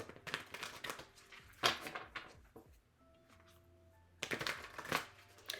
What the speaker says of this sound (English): I'm going to go ahead and shuffle according to my guides.